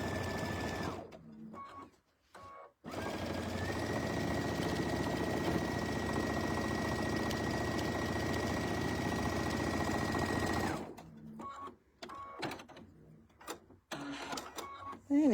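A sewing machine stitches quilting lines on a pouch, running in short bursts at first, then in one long steady whir before stopping and restarting in brief bursts, close and clear.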